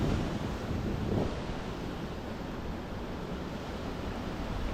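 Big ocean waves on the shore of Nusakambangan island make a broad steady roar mixed with wind buffeting the microphone, one swell rising briefly near the start.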